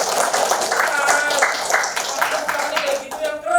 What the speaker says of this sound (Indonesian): tepuk tangan buat Sumedang